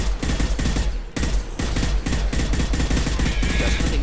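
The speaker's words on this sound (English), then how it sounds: "I'm hearing some gunfire here." Rapid automatic gunfire in the video game Mass Effect 2, sustained bursts of loud shots rattling almost continuously with one brief pause, game action dense around it.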